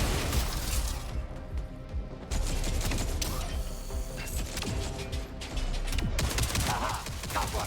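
Dense, rapid gunfire in the Jump Space video game, a sustained clattering barrage with mechanical ratcheting layered through, loud and continuous for several seconds.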